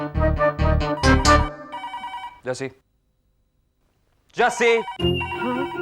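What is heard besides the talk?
telephone ringing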